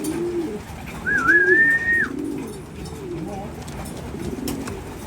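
Racing pigeons cooing in a loft, repeated soft low coos close by, with a person talking and a brief whistle-like tone overhead.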